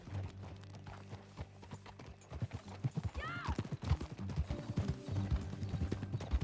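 Horse hooves clip-clop at a walking pace in Red Dead Redemption 2, with irregular, moderately loud hoof strikes building over several seconds, mixed with faint in-game rustles and a brief creak.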